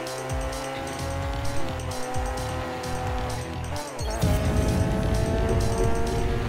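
A racing car in the video game Ridge Racer Unbounded roars steadily up close, its engine note climbing, then tires squeal loudly as it drifts through a corner.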